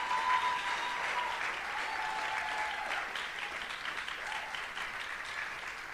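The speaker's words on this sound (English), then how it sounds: "Can we please give them another round of applause" A crowd applauds continuously at an AMIkids graduation ceremony, a fairly even wash of many hands clapping at moderate volume, heard from some distance in the hall.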